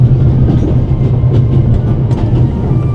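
A train carriage rattles steadily in the adventure game The Raven: Legacy of a Master Thief, with a loud, continuous low rumble and faint clickety-clack under it, heard alone without talk.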